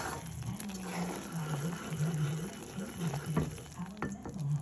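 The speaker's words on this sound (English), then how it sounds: "It does not want to stop boiling, does it?" Thick caramel sauce with baking soda and vanilla bubbling steadily in a pot while being stirred, a continuous close sizzling bubble with a rhythmic scraping swirl running through it.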